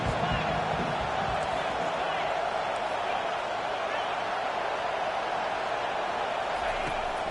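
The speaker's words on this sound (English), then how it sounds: "Decibels rising as the crowd gets behind this defense on 3rd down." A college football stadium crowd roaring steadily on third down, a loud, dense wall of cheering that holds throughout, with a commentator talking over it.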